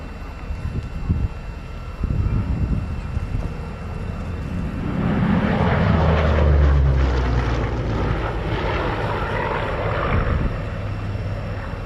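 A Hawker Sea Hurricane 1B at the Shuttleworth Collection, in the Spitfire's engine family, swells from a distant drone into a loud propeller roar as it passes, then slowly fades. Knocks and wind sound early on.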